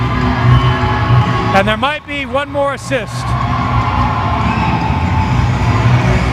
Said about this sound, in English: The crowd is so loud the referees can't communicate to the timekeeper the scores.